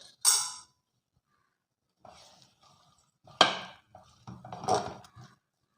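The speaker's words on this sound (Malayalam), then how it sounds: "ഇനി നമുക്കിതൊന്ന് ഇളക്കി കൊടുക്കാം" A utensil stirring lamb brain fry in a pan gives sparse, separate clatters and scrapes, a sharp knock first and then a few louder clustered strokes, with silence between them.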